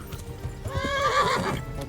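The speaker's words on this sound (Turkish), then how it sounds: "At kişneyip duruyor" A horse in Kingdom Come: Deliverance whinnies loudly, a long wavering neigh rising and falling over hoof clatter, close and clear.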